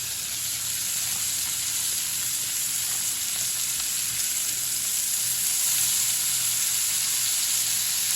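Steak sizzling and frying in garlic butter in a hot pan, a steady, close crackling hiss with no talk over it.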